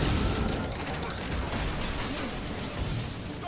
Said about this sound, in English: Rocket! Fireworks!